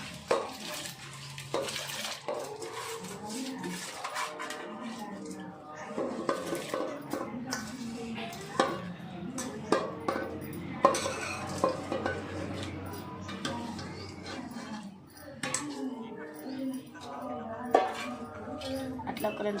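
A spoon stirs vegetable biryani rice in a pot, giving soft scraping and clinking strokes in an uneven rhythm. Someone talks over the stirring, and a faint sizzle sits in the background.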